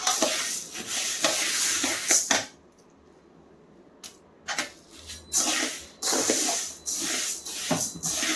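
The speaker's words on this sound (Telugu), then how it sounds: "సో ఇక్కడ అయితే పెసలని వేయించుకుంటున్నాను అనమాట" Green gram (moong dal) dry-roasting in a pan, giving a dry rattling hiss as the lentils are stirred in bursts, with a brief quiet pause in the middle before the scraping and rustling resume.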